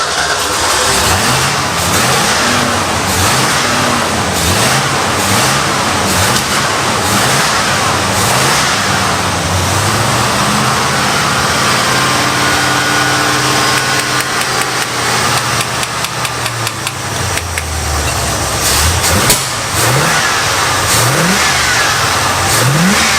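Boat motor swapped into a truck runs loud and close, revving up and down in repeated swells, with a steady whine from the serpentine belt riding over the engine noise and no voices.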